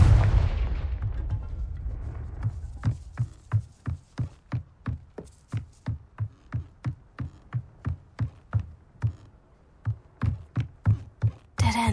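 Confringo blasting-spell explosions in Hogwarts Legacy: a big initial boom, then a long string of evenly spaced heavy blasts, about twenty in steady rhythm, loud and close, with no voices.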